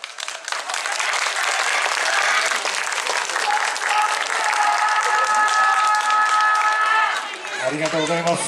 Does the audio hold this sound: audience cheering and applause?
yes